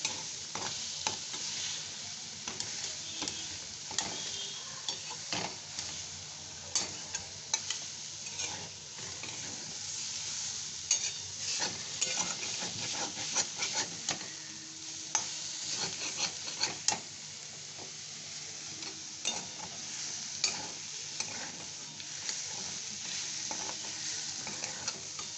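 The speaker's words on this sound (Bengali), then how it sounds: "এটা খুব ভালো করে একটু কষতে হবে। আঁচটা কমিয়ে দিয়েছে এবার।" Curry being stir-fried in a pan over low heat, a steady soft sizzle broken by frequent scraping and stirring strokes that go on continuously throughout, with no one speaking.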